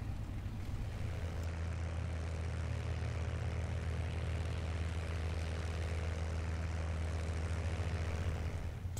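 A P-51B Mustang's propeller engine idles and taxis in a flight simulator game, a steady low droning hum with constant engine harmonics that stays level and close throughout, with no voices.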